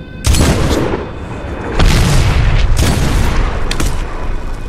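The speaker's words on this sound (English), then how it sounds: "Mortar inbound." Mortar blasts in the Medal of Honor video game, two heavy booming explosions with rumbling decay and a few sharp cracks after them, loud and close.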